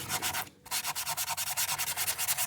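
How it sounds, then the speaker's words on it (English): Coarse side of a sanding block rubbed over a wooden crankbait body in quick regular back-and-forth strokes, a close dry rasping rhythm with a short pause early on, no talking. "I just use a sanding block. One side's coarse, the other side's fine, but I use the coarse side for this part of it"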